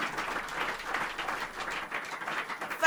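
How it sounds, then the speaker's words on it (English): An audience at a broadcast programme gives a sustained round of applause, dense overlapping clapping that swells and dips for a few seconds at moderate distance. "Please, can we appreciate him with a loud round of applause?"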